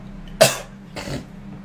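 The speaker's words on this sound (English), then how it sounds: "Bro coughed like an iPad kid." Two short coughs from one person, the first sharp and loud, the second softer and rougher, with quiet room tone between them.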